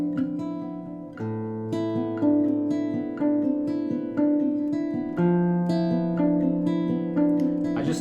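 Fingerpicked guitar plays a repeating chord pattern in 16th notes, shifted a 16th note later. Plucked notes ring over each other in a steady, bright arpeggio, close and clear, with no talking.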